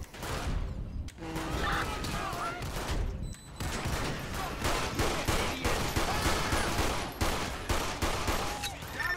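Loud, dense gunfire in GTA 5 with the LSPDFR police mod, with rapid overlapping shots in a sustained firefight and voices under the noise.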